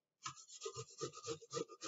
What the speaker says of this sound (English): Then using the microplane grater,